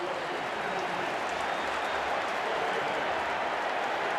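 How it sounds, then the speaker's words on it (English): Stadium crowd in Baltimore at an NFL game, Ravens hosting the Steelers, roaring and cheering in a dense, steady wash of noise from start to finish, with no single voice standing out. "The crowd chants defense, defense, makes all sorts of noise."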